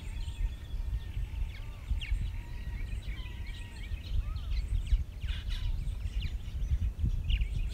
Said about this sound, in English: you can hear the babies chirping inside the cavities